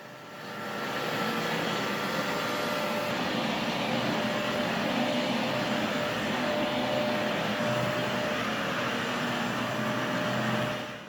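A ROBOGEM carpet cleaning machine draws liquid out of a carpet with a loud, steady suction whine and motor roar that starts up, holds constant for about ten seconds, then cuts off, with no talk.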